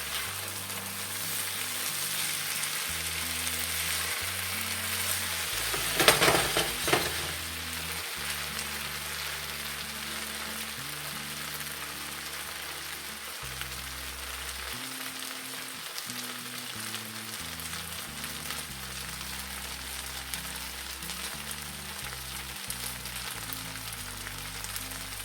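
Squash, okra, potatoes and onions stir-fry in a pan with a steady, close sizzle that lasts throughout, broken briefly by a louder crackling burst partway in.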